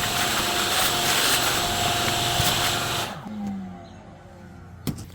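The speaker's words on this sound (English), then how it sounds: "Got the shop vac hose and suck up the rest." Shop vac sucking ash out of a BBQ grill, a loud close steady whooshing roar lasting about three seconds before it cuts off and winds down, leaving faint rattles and a single knock.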